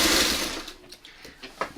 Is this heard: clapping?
no